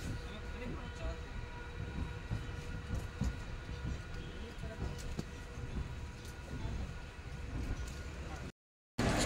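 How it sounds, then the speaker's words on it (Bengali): The Howrah–Bangalore Express runs at night, heard from on board as a steady low rumble with faint rhythmic clatter, ending in a brief cut to silence. "11:43-এ ট্রেনটা ছাড়লো।"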